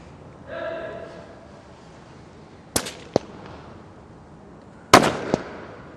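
Sharp rifle shots from police snipers at a SWAT challenge competition in the UAE, a few cracks and pops spread over several seconds, fairly distant, with a brief voice early on.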